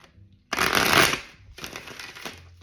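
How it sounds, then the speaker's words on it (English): A deck of tarot cards riffled and shuffled by hand in two bursts, a long loud papery flutter followed by a shorter, softer one, close up with no talking. "One more shuffle."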